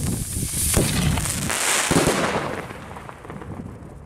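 A New Year's firework fountain spits sparks with continuous crackling and hissing bursts, loud and close, fading slightly toward the end.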